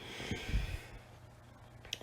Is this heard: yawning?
yes